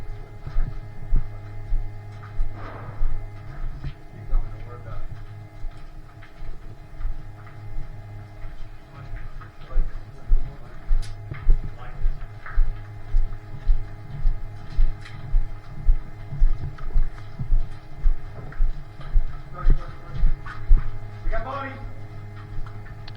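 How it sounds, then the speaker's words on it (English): An X-Fog anti-fog fan mounted on the back of an airsoft helmet hums steadily and close, a constant low drone with rhythmic throbbing, heard during an airsoft event in an abandoned asylum with some voices at times. "So it's a small fan that goes on the back of my helmet"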